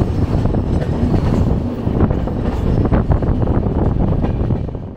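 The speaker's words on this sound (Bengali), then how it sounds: "তারপরে আমাদের ট্রেন এখন ছাড়ছে" Ahmedabad Express pulling out of a station, a loud rumbling roll with rhythmic clacks of wheels over rail joints and some wind buffeting, close and continuous.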